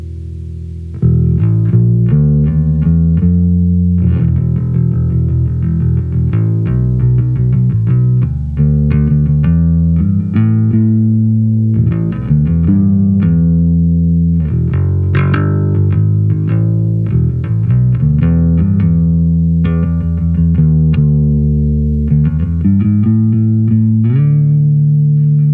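An electric guitar played through an Electro-Harmonix Soul Food overdrive pedal set to mild drive, with the tone at 75% and the volume full. Strummed chords and riffs ring out loud and continuous for the whole stretch, without talk.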